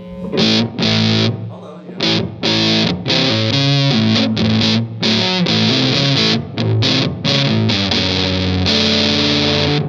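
Electric guitar driven through a Big Muff fuzz pedal, thick saturated chords and riffs played loud and continuous, with brief gaps between phrases.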